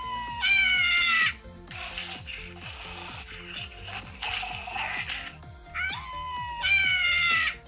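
A Target-exclusive Wicket Ewok plush toy from the Galaxy's Edge line plays electronic growling noises: two loud, warbling growl bursts open and close the sequence, with softer chattering in between over a steady mechanical ticking.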